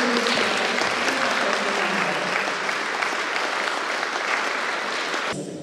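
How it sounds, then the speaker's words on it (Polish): Families and pupils at a municipal school year-end ceremony in Swory applaud in a loud, dense, continuous round of clapping that holds steady and then cuts off abruptly near the end. "I tu się należą jeszcze raz brawa"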